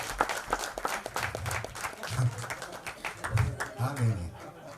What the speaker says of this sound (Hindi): मुकुल देव जी के लिए जोरदार तालियां हो जाए।